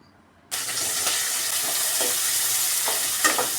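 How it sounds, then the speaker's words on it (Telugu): Onions and green chillies hit hot oil and break into a sudden, loud, continuous sizzle close by, with faint stirring taps and no voices. "ఇప్పుడు ఉల్లిపాయలు పచ్చిమిరపకాయలు వేసుకుందామండి"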